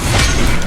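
A spell-cast burst from the Hogwarts Legacy Expelliarmus disarming spell: one short, loud, noisy crackling whoosh filling the whole moment at close range.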